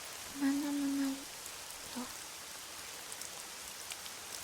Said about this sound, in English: The rain was pounding fiercely on the umbrella